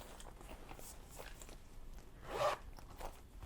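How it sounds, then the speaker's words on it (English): A small zipper bag is handled up close, with quiet crinkling and rustling, then a brief, louder zipper pull about two-thirds of the way through. "I put this in a little zipper bag because this is how big it is."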